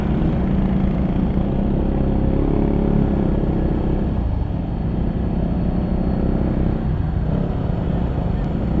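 A motorcycle engine labours loudly and continuously up a very steep, dangerous mountain road at Bitukang Manok, Atimonan, Quezon, droning close by with a heavy low rumble that barely varies in pitch.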